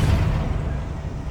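A loud, close blast from the Confringo blasting spell in Hogwarts Legacy, a single heavy boom that rumbles and decays over about a second.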